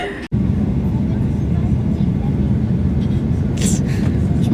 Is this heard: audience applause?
no